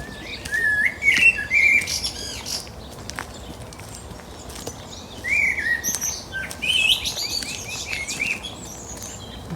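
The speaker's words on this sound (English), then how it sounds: "Very vocal blackbird" A very vocal blackbird sings from a plane tree in a cemetery, with bursts of rich, fluting and chattering phrases in two main spells, fairly close, amid a busy background of sparrows.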